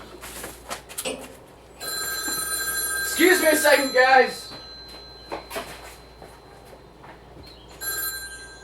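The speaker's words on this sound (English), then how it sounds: "Hey, there's a candlestick phone." An old candlestick telephone bell rings in a short loud burst of rapid metallic trills, with a voice speaking briefly nearby before and after.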